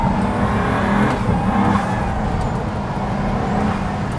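A Pagani Huayra's engine pulls hard up a narrow mountain pass road in second gear, a steady loud drone rising with the revs, recorded from inside or alongside the car with no talking.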